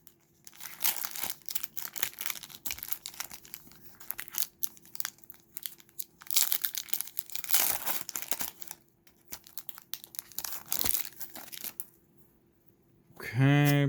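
A Zendikar Rising foil promo card pack is torn open and handled close up, with repeated crinkly bursts of wrapper crackling and rustling separated by short pauses, ending with a brief voice.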